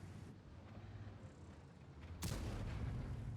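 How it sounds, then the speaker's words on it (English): A Vercingetorix tank cannon fires a blind shot in a video game battle: a sudden loud broadband boom bursts in after steady engine rumble and trails off into a sustained rolling echo. "I just chuck a blind shot in"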